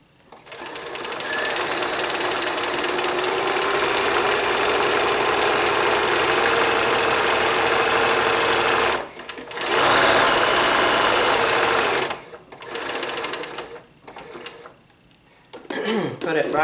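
A sewing machine runs a zigzag stitch close up, its steady mechanical whir and needle rattle continuing for long stretches, broken by short pauses and restarts near the end.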